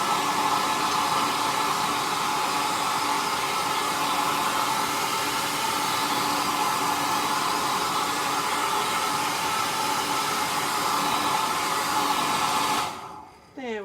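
A hair dryer runs continuously to dry paint on a stenciled sign, a loud, even blowing roar with a steady motor whine nearby, switched off near the end followed by a brief faint sound.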